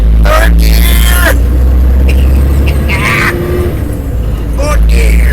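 A car engine revs up through the gears, with several rising whines that climb and drop again at each shift under a constant low road rumble, while someone talks loudly over it.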